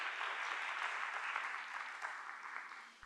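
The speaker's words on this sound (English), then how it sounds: "Let's give her a round of applause." Quiet, steady round of clapping from the audience at the Miss Black USA 2021 pageant for a judge being introduced, sustained and fairly distant, fading slightly toward the end.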